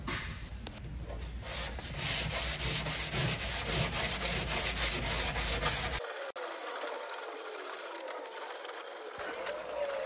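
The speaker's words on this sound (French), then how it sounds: "Puis j'attaque le ponçage." A carved wooden block rubs sandpaper over the bodywork of a Porsche 944 during a panel repair, making a loud, close, continuous rhythmic scraping that stops abruptly partway through, followed by quieter room noise.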